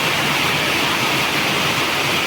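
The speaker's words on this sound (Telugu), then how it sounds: "చాలా పెద్ద వర్షం వచ్చేస్తుందండి" Heavy rain pours down in a dense, unbroken roar, loud and close, holding steady with no talk over it.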